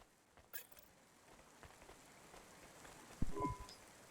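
Soft, steady video game rainfall patters quietly in the background, broken near the end by a sharp click and a few brief electronic tones.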